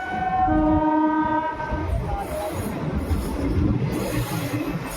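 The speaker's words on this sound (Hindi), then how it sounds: "ट्रेन डिपार्चर हो रही है नावा सिटी रेलवे स्टेशन से" The Runicha Express pulls away from Nawa City station. A sustained horn blast carries over the steady rumble of the rolling train and rail noise, with no one talking.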